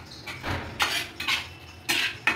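Metal cookware clinks and knocks several times, spaced unevenly, as a pot of Bengali rohu fish curry, rui macher kalia, is stirred and covered with its lid; close and fairly soft.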